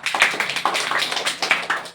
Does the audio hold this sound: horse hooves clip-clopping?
no